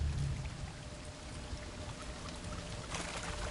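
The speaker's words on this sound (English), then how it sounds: "A waterfall flowing upwards?" A video game waterfall flowing upwards, heard as a steady broadband rush of falling water with drip-like patter, moderately loud and continuous with no voices.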